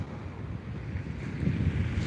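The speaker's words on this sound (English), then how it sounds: "these waves are getting a little rambunctious" Ocean waves wash onto a beach while agate hunting on the shore, a steady low rushing surge with wind buffeting the microphone, growing slightly louder toward the end.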